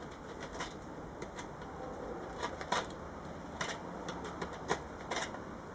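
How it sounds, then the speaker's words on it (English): A blade trimming excess grip tape off a skateboard deck, heard as a series of short, scratchy cutting strokes at irregular intervals, fairly close and quiet against a soft background hiss, with no talking. "just take your blade and just cut off that extra bit"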